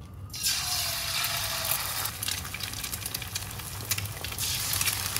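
Shrimp frying in a little oil in a hot wok, a steady, close sizzle that starts after a brief quiet moment and holds loud and even to the end, with no talking.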